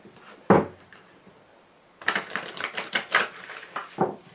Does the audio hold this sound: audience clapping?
no